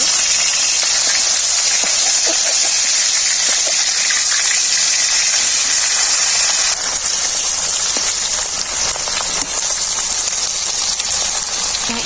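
Fried fish heads broken apart with a spatula in a pan of hot oil, drowned in a loud, continuous hissing sizzle with faint scraping beneath.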